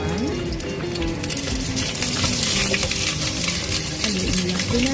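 Garlic sizzles in hot oil in a cooking pot while a chicken-feet dish is prepared, a loud, continuous close frying crackle with occasional stirring scrapes against the pot.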